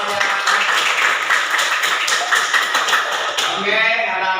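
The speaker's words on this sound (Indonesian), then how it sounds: "tepuk tangan buat kita semuanya" A group of children claps hands together in a dense, rapid patter lasting a few seconds, close and loud, with voices mixed in.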